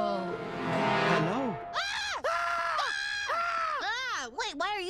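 A cartoon girl from the animated series Bob's Burgers lets out several loud, wavering, high-pitched screams in quick succession, rising and falling in pitch, close and alone with no other sound.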